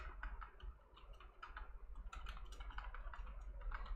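Someone types on a computer keyboard at close range, a quiet but rapid, uneven patter of key clicks running continuously. No one speaks over it.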